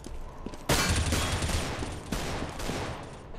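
Loud shotgun blasts in the Counter-Strike: Global Offensive video game, a sharp shot followed by another about two seconds later, each leaving a dense, ringing burst of noise with no talk.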